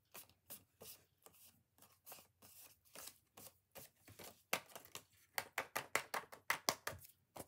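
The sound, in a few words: removing eraser from paper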